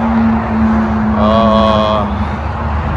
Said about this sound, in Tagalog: medyo maingay dito. Highway ko kasi ito eh, sa gilid ng highway